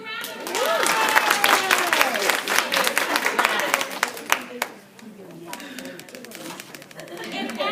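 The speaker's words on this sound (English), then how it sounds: "Let's give them a round of" An audience bursts into applause with scattered whoops and cheers, a dense patter of claps that swells, dips and picks up again near the end, with voices chattering through it.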